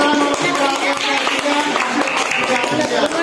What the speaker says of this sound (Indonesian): tepuk tangan buat kelompok kawan yang